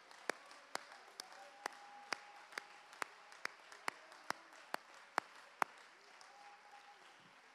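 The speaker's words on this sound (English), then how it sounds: "Give God a hand clap of praise." During a Sunday morning church service, a single pair of hands claps in a slow, even rhythm of about a dozen crisp beats, close and distinct over a faint room hum, fading off near the end.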